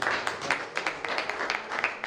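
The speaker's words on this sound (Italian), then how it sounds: "nella sala degli affreschi di Palazzo Zorzi risuonano applausi liberatori" Applause fills the fresco hall of Palazzo Zorzi, a short burst of many hands clapping in quick irregular patters at a steady, moderate level.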